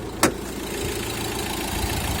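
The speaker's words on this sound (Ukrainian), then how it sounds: "Моторчик працює не єдиного постороннього звуку" A 2015 Fiat Ducato passenger van's 2.3-litre 130 hp engine idles steadily with a low rumbling chug, preceded by a short sharp click near the start.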